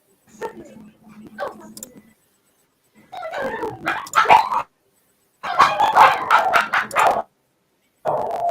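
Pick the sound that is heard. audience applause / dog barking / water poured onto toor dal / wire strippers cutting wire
dog barking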